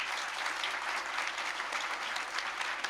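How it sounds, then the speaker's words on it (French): An audience at a book presentation about animals and people claps for an author, a close, dense, even burst of applause that holds steady throughout with no voices over it. "On va l'applaudir,"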